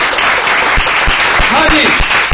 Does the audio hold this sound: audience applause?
yes